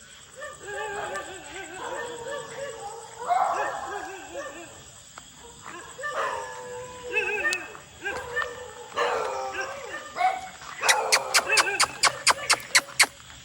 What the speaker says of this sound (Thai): ไม่เห่านะ ไม่เห่านะ ลูก ไม่เห่านะ